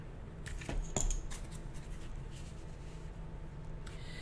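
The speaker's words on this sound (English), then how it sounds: "I just simply took my scissors" Scissors snip through an adhesive-backed mirror sheet in a few quick crisp cuts clustered near the start, followed by faint rustling in a quiet room.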